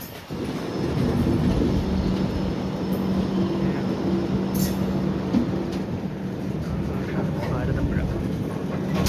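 A train approaching Shoranur rumbles along the tracks with a steady low roar and faint clatter, heard from on board with a soft hiss over the top.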